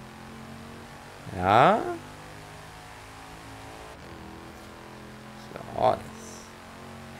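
In Forza Horizon 3, a car engine revs up sharply twice, with a rising whine that climbs in pitch. The first pull is loud and close, and a shorter, fainter one follows later, both over quiet game background while someone speaks briefly.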